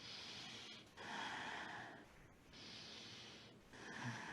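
Slow, deep breaths during a Kundalini yoga exercise come close and soft, with a rhythm of long airy inhales and exhales separated by short pauses, quiet and alone without speech.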